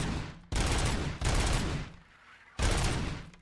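Gunfire from a pistol in RoboCop: Rogue City, fired in dense, loud rapid bursts separated by brief pauses, with no talking.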